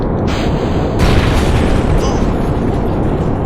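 A rocket blows apart in the Kerbal Space Program video game, a loud, dense roaring blast that fills the clip and rumbles on without a break.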